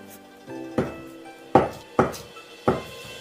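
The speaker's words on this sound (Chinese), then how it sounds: "剩下的切成片" Four sharp knife chops slice through firm tofu on a cutting board at close range, irregularly spaced, over a low background hum with no talking.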